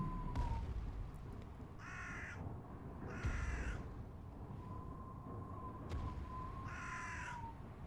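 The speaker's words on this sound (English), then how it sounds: "Birds." Crows caw in a Warhammer 40K Helsreach episode, giving three or four harsh, evenly spaced calls at moderate distance over a low, steady ambient rumble, with no talking.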